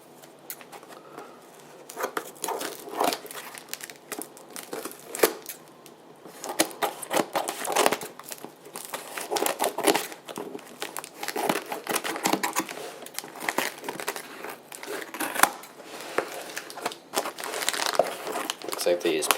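Paper packing material crinkles and rustles steadily as a box from a collector holding notification devices is unpacked, a dense run of close, irregular crackles lasting throughout with no talk over it.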